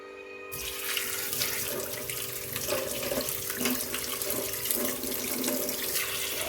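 Tamarind washed under a running kitchen tap, a steady splashing stream of water pouring into a sink for the whole stretch, close and even, with no one talking.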